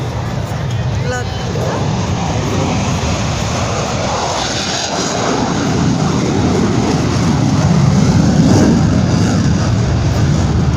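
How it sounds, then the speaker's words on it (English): A steady, loud roar from a supersonic military jet at an airshow in Salinas, California fills the scene, rumbling broadly and swelling slightly louder toward the end, with no pauses. "This aircraft has the capability of going about twice the speed of sound."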